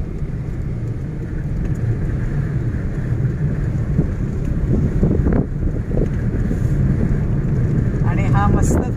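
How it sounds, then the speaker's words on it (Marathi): Strong wind gusting over a seaside headland at Kunkeshwar, Devgad on the Konkan coast, near wind turbines, a steady low roar with microphone buffeting throughout and a brief brighter noise near the end. "आणि हा मस्त थंडगार वारा."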